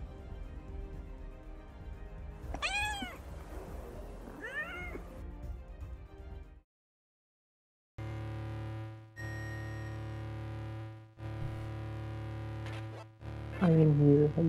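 Pet cat meowing twice, up close, over a steady background of retro video game music from Metroid Zero Mission, followed by sustained electronic game tones.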